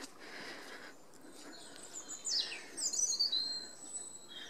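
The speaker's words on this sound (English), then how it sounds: "I hope you can hear all the beautiful birds today." Birds sing in quiet woodland, with a few faint chirps and then brighter, clearer whistled phrases midway, over soft background hiss.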